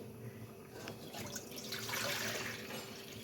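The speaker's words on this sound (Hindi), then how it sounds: "और इसके अंदर डालेंगे पानी।" Water is poured into a cooking pan in a home kitchen while making a crispy potato snack, a steady, soft splashing stream at close range running for a few seconds.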